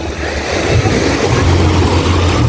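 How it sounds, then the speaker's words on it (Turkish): Sea waves roll steadily onto Alba Beach in Fethiye, a loud, continuous wash of surf mixed with buffeting wind noise and no talking. "Deniz bu."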